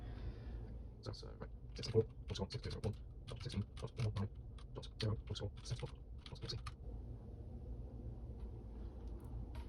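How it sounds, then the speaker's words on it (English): Someone types on a computer keyboard in quick clustered bursts of close, crisp keystrokes for about seven seconds, followed by quiet room tone. "And then we just type in this exe, the whole thing."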